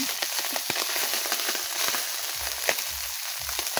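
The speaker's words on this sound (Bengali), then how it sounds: "লাল লাল করেই আমি সব মাছগুলো ভেজে নেব।" Small puti fish fry in hot oil with a steady close hiss and sizzle, dotted with scattered sharp crackles throughout and no talking.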